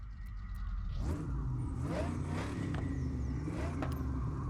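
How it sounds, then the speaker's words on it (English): A Chevy Nova with a race exhaust revs in Forza Horizon, a deep rumbling engine rising in pitch through several throttle blips over a constant low growl. "I like the race exhaust on that one."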